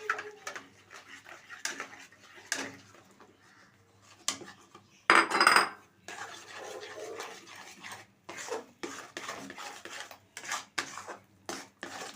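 Rice flour being stirred little by little into a pot to make dough for chushi pitha, giving intermittent scraping and clattering of spoon against metal with quiet gaps between strokes.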